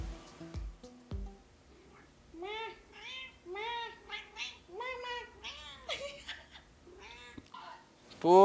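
A cat meows repeatedly, giving a string of drawn-out, tonal meows one after another, fairly close and clear, ending with a louder burst.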